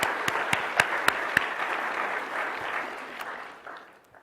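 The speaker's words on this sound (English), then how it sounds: "give them a big round of applause" Audience applause at a scientific award ceremony, moderately sized and fairly close, with a few sharp individual claps standing out early before the clapping tapers off over about four seconds.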